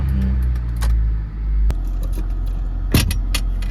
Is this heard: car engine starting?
yes